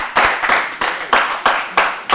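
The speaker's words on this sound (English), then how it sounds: "let's clap it up for her" A small audience claps for a student speaker at a school speaker series. The applause comes as a run of loud, close bursts that rise and break off at regular intervals, with no talk over it.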